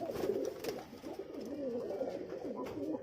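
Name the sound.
Giribaz and Pakistani pigeons cooing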